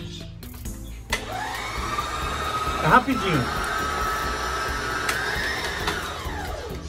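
An electric mixer beats four whole eggs with sugar for pineapple upside-down cake batter, giving a steady whirring drone that shifts pitch as it runs. Brief speech is heard over it.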